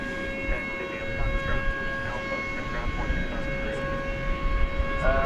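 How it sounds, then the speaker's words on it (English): A steady, sustained siren-like tone drones throughout at night at DFW Airport, layered over rumbling background noise, with faint voices in the mix. "Maybe it's attracted by that siren-like sound."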